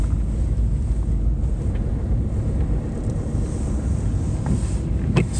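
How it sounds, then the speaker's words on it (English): Steady, blustery wind buffeting the microphone, a constant low roar with occasional gusts and no voices. "It's so windy today."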